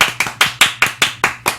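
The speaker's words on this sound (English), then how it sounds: "Yes, we're clapping now." A small group claps in a studio during a box office discussion, about eight sharp, evenly spaced claps at a brisk rhythm, close and clear with no talk over them.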